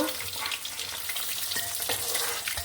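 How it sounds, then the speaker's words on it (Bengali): Desi chicken eggs fry in hot oil for an egg korma, giving a loud, continuous bubbling sizzle with occasional sharper crackles and light stirring. "ডিমটাকে ভেজে নিব"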